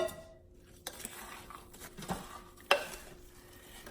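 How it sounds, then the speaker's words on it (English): Sugar-coated pecans being stirred in a bowl, giving soft scraping and rustling with a few sharp clinks of a utensil against the dish, close and fairly quiet, with no talking. "I'm gonna stir the pecans up a bit"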